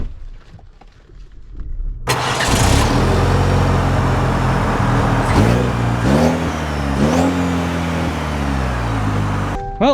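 GMC Canyon AT4X AEV pickup setting off: after a quiet start the engine comes in loudly and stays prominent, revving and rising in pitch as it pulls away, heard close from inside the cab.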